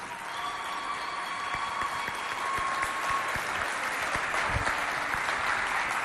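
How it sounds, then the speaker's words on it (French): A crowd at a Chadian festival stage show applauds continuously, a dense, steady clapping that fills the space and swells slightly toward the end. "je vous demande toujours sous vos applaudissements"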